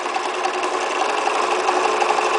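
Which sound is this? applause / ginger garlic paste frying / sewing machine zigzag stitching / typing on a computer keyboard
sewing machine zigzag stitching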